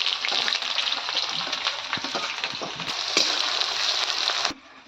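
Chopped onions frying in mustard oil, a dense loud crackling sizzle with scraping stirring strokes, close and continuous, then cutting off abruptly near the end.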